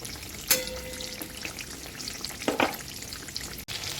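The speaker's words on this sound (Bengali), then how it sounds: "আলু আর বেগুন একসঙ্গে ভাজতে দিয়েছি" Steady crackling sizzle of potato and eggplant frying together in hot oil, with a sharp clatter early on and a brief scraping stir midway; no voices.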